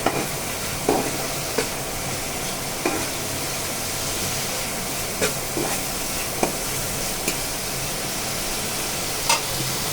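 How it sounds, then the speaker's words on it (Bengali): Turmeric-laced spice paste sizzles steadily in a pan, broken by occasional sharp scrapes of a spatula stirring it, close and moderately loud with no talking. "একটু হলুদের গুঁড়া, একটু মশলাটাকে একটু কষাবো সুন্দর করে"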